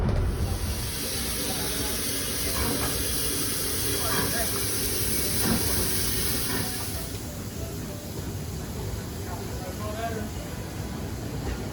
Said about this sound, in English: it was time for me to hop on the steam train and go south to Castletown